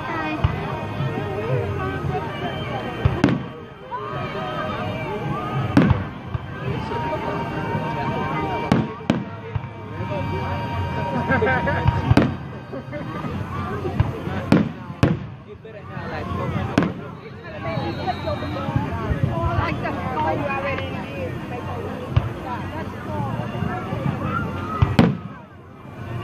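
A fireworks show at Tom Brown Park in Tallahassee, Florida, sounds as a steady stream of crackling bursts and sharp booms, with a crowd murmuring and chattering throughout.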